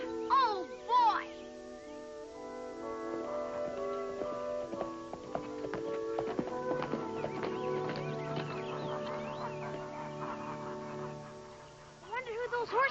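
Horses' hooves clip-clop at a steady walking pace nearby on a ranch, with voices and music heard along with the hoofbeats.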